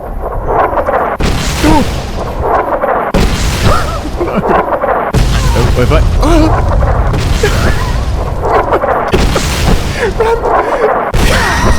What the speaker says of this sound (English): I am able to hug the cliffside and avoid the brunt of the airstrike